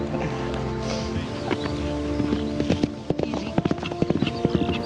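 Horse hooves clip-clop through a movie scene, starting loose and building into a run of sharp, close, uneven strikes toward the end, layered over a steady low background rumble.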